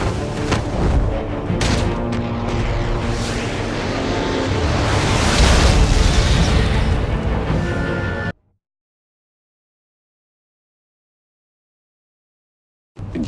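A loud, sustained explosion roars through the Batman: The Telltale Series video game, a thick wall of rumbling blast and debris noise lasting several seconds before cutting abruptly to silence.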